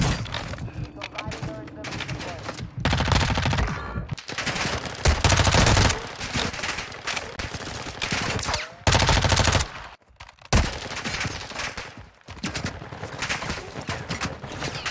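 Enemy gunfire in a battle royale-style video game, dense bursts of rapid shots and fusillades in clustered volleys with brief pauses, loud and close, with a voice speaking over parts of it.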